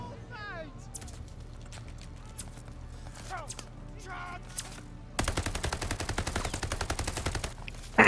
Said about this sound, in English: this gun's got some more kick than I remember it having